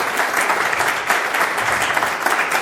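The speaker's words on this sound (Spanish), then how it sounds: "I think he deserves a round of applause." A conference audience at a motivational event applauds, dense continuous clapping close and loud for a few seconds without pauses.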